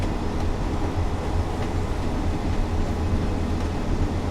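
A Class 142 diesel railbus accelerating on a branch line in Train Sim World 4, a steady droning engine and rumbling wheel noise held at even loudness throughout, close and continuous, no talking.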